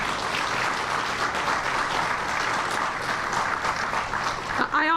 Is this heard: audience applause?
yes